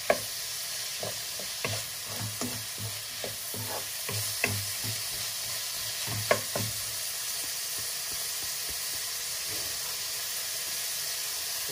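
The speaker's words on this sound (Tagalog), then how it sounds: "Sangkotsain muna natin." Vegetables sautéing in a hot pan, a steady sizzle broken by repeated stirring scrapes and clatters in an irregular rhythm, close and moderately loud, with no voices.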